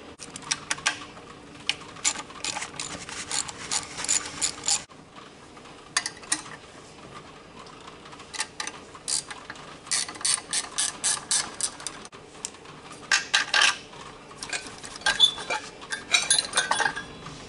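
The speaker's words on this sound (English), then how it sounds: "This alternator doesn't sound the greatest," An old, once-seized alternator spun by an electric motor on a bracket, giving a continuous close mechanical whir with irregular rattling, clicking bursts of ratchet-like chatter that come and go throughout.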